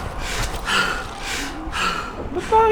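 A person breathing hard and fast after running, a few sharp gasping breaths in a row, close and fairly loud, heard during a Dying Light gaming session with game sounds behind them.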